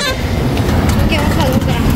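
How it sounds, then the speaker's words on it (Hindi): Loud highway road noise with a truck horn tooting briefly a couple of times over engine rumble, with people talking nearby. "ट्रक वाले भैया हॉर्न दे रहे थे"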